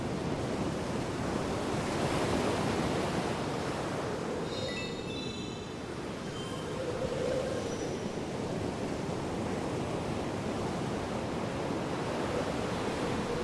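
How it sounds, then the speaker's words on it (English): Ocean waves in the video game Lost Odyssey roll as a continuous loud wash of surf with wind-like noise, a faint high bird-like call briefly over it, no voices. "those are some ships, and these are some waves"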